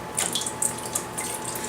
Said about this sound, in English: We're going to add 1 cup of warm water to the vegan mixture as well.